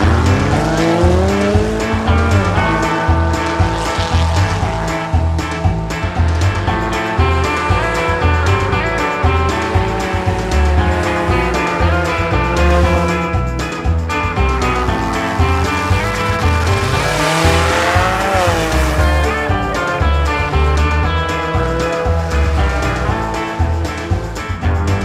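A cartoon race car speeds around a racetrack with a loud, revving engine whose pitch rises and falls, and tires squeal and skid through the turns, all close and continuous with no voices.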